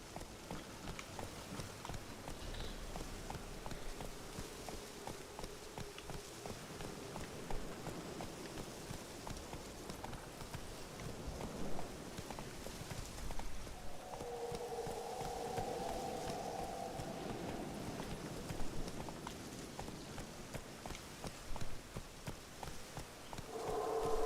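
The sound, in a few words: wild horse hooves clip-clopping in a video game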